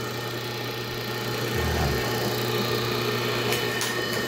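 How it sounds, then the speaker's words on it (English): An old electric motor turning a homemade grist mill hums steadily at close range, a continuous droning whir with a faint low thump partway through. "it's an old fashioned electric motor"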